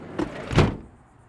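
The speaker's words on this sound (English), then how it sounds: "slide our door back shut." The sliding side door of a 1983 GMC Vandura G2500 van rolling along its track and shutting with a single close, solid thud that fades into quiet.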